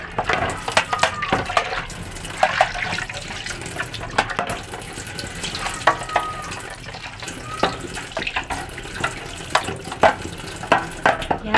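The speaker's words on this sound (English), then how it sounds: "So this is how I wash them." Dishes are washed by hand in water, with repeated splashes, sloshing and light clinks of crockery at close range in an irregular rhythm.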